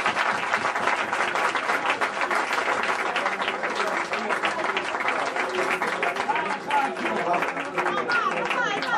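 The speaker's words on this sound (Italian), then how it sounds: "e quindi un applauso del Presidente" A crowd at an evening association event claps in sustained, dense applause, steady and fairly loud throughout, with voices chattering underneath.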